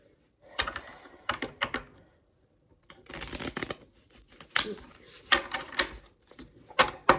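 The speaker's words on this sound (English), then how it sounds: "That wasn't the best shuffle, but it was okay." A deck of tarot cards shuffled by hand at close range, with quick papery riffling bursts that come and go in uneven clusters separated by short pauses. No one speaks.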